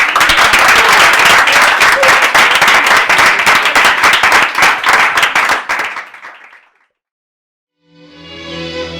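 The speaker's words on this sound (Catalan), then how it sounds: "I amb tot això i un fort aplaudiment anem a la pausa" A studio audience at a Christmas special of a television show claps loudly and densely for about six seconds before the applause fades to silence, then music begins.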